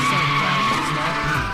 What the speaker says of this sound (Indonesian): Film diawali dengan adegan sebuah mobil Toyota AE86 yang sedang kekebutan sambil kucat